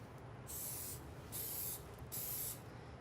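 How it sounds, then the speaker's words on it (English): Cooking spray goes onto a baking pan in three short hissing bursts, each about half a second long and evenly spaced, close to the microphone, with a faint room hum underneath. "you always want to spray the pan"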